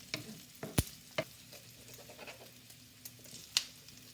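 Smoked pancetta sizzles and crackles in a frying pan as a utensil stirs it, with a steady low fry and a few sharp scraping knocks, close by, without voices.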